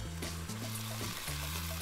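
Beef strips sizzle in a pan while being stirred, a continuous close frying hiss with light scraping, and background music playing throughout.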